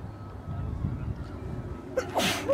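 A single sharp sneeze bursts out near the end, loud and close, after a stretch of low rumbling background noise, outdoors in spring pollen in Stein am Rhein.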